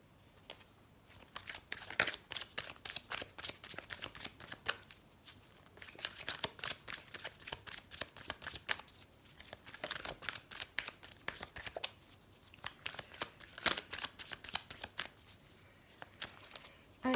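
Tarot cards being shuffled for a reading: soft, quiet riffling and slapping in repeated bursts, with brief pauses between rounds of shuffling.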